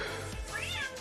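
A house cat gives a single close meow, drawn out and rising then falling, over a low background hum.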